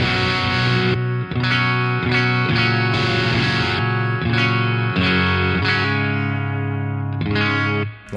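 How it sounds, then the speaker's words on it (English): A Telecaster on its bridge pickup plays through a Citizen Gain CSR amp, first as a run of distorted, sustained chords and then switched to the clean channel, with a short reverberant tail after each strum. "I'm going to play a little bit of the dirty channel, and I'm going to click over to the clean channel so you can hear how seamless that switching is."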